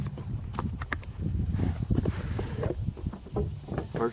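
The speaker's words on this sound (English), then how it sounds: "Let's unbox this and show you what's in the box." Cardboard packaging of an Auxito J503 jump starter is handled and opened up close, with scraping, rustling and soft thumps in uneven bursts and no speech.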